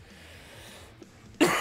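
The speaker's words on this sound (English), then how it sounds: "this is the time of night where I start to get like a little bit of a cough" A single sharp cough bursts out at the very end, loud and close, after a stretch of quiet room tone.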